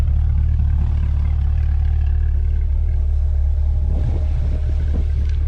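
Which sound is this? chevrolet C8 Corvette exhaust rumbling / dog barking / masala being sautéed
chevrolet C8 Corvette exhaust rumbling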